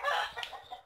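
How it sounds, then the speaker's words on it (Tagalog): A chicken waiting to be fed clucks close by, one brief, bright burst of calls trailing into softer clucks. "So guys, yung isang manok, ito na, naghihinta na magkain."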